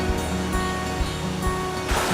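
Mountain streams at Hunters Creek rush and splash through a rocky creek bed, producing a continuous close, full washing sound with no voices.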